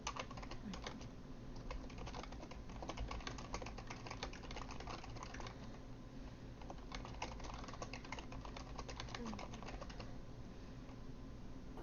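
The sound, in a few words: typing on a computer keyboard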